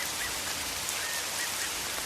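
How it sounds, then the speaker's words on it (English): Rain falls steadily on a Central American rainforest, a dense, even hiss of drops with faint chirps from a distant bird now and then, and no voices. "during a rain, hearing nothing but the raindrops and a distant bird"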